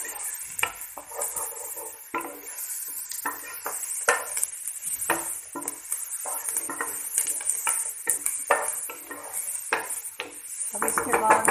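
Capsicum is stirred with lightly browned onion in a pan, a spoon scraping and clinking against the metal while a soft sizzle runs beneath, irregular close strokes continuing throughout without talk.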